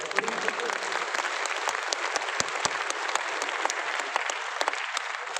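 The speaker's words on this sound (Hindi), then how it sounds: "भाई एक बार आपके लिए ताली बजा दें यार।" Audience clapping in a seminar hall, a steady, fairly quiet patter of many hands with individual sharp claps standing out, continuing evenly throughout.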